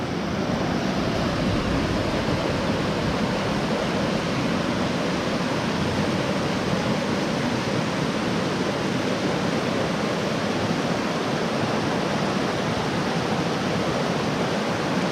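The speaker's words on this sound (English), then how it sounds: "hanging out by a creek" A creek in a Gatlinburg, Tennessee park rushes steadily, a loud, dense and unbroken wash of flowing water close by, with no gaps.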